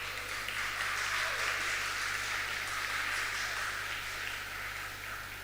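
An audience at a memorial thanksgiving service applauds, a steady wash of many hands clapping that holds evenly for several seconds against a low hum.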